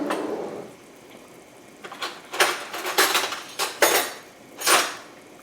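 Pasta goes into a pot for a calamari and shrimp stew, heard as a run of close clattering knocks and metallic clinks after a quiet stretch, no talk.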